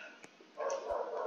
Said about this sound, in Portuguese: cachorro latiu, me deu um susto.